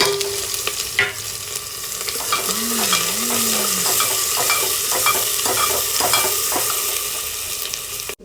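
Onions sizzle and fry in desi ghee, stirred steadily with a spoon over roughly eight seconds of continuous crackling, close and fairly loud with no talking.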